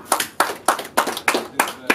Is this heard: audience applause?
yes